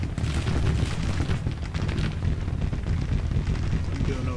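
A Grand Tactician: Civil War battle firefight rumbles on as rifles and booming artillery blend into a dense, continuous wash of gunfire and blasts, steady and fairly loud throughout.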